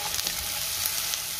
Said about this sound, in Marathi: कांदाही आपल्याला 2 मिनिटं चांगला परतून घ्यायचा आहे